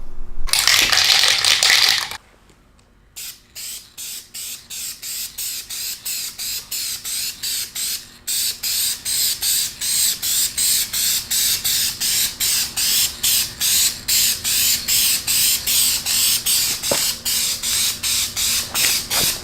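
An aerosol spray can paints a Honda Integra fender: a loud hiss at first, a pause, then a long run of short rhythmic spray bursts, evenly spaced and close, with no talking.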